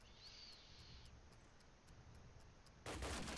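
A gunshot headshot in Call of Duty 1 during an online cup match, a single sharp, loud burst of gunfire arriving abruptly near the end after steady game background noise.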